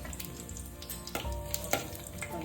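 Whole garam masala spices frying in hot oil for a chukka kura chicken curry crackle and sizzle softly close by, with scattered sharp pops over a low, steady hiss.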